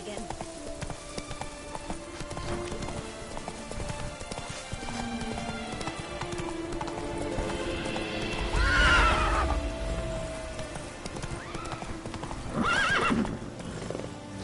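Roach, the horse in The Witcher 3: Blood and Wine, gallops with continuous clip-clop hoofbeats, and neighs or snorts break out around the middle and near the end.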